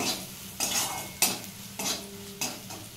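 Spiced potato filling with turmeric and ground cumin is stirred as it fries in a pan, a spatula scraping in regular strokes about every half second over a soft, constant sizzle.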